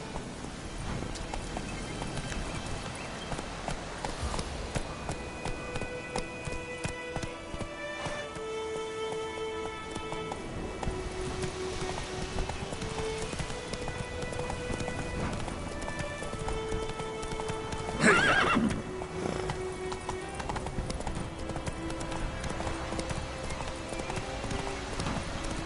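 Roach the horse gallops in The Witcher 3, with steady rhythmic hoofbeats running throughout and a brief whinny partway through, set against a continuous musical score.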